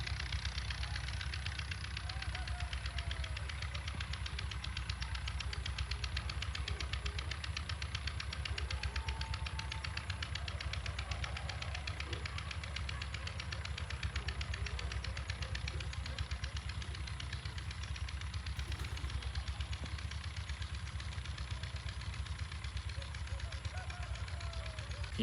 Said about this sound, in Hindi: खूबसूरत सा ट्रैक्टर जो वो दौड़े लगा रहा है।